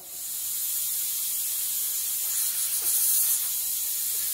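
Air hisses steadily out of a crack injection port as the valve on the neighbouring port is opened. The hiss is loud, continuous and bright, and it swells slightly midway.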